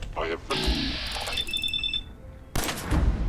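Gunfire in Fallout 4 bursts out in loud, sharp shots with game tones and effects around them, and a voice talks over the action.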